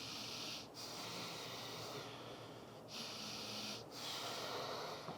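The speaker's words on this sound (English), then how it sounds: "Wherever you are, deep breathing." Steady deep yoga breathing with slow, regular inhales and exhales, a soft continuous airy rush broken by a few brief pauses, close and without talk.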